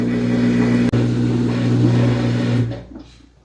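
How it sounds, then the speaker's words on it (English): A Samsung top-load washer (WA50R5200) running its drain cycle, a steady motor-and-pump hum with tonal whine that holds for over two seconds, then cuts off abruptly and leaves a faint quieter tail. "it'll go through, right there, it's a drain cycle"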